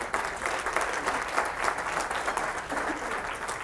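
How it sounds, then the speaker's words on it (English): Audience at a Leadership Business Council event breaking into steady applause, a dense patter of many hands clapping at a moderate distance with no voices on top. "It's people like Julia Selchuk, yes, applaud for that."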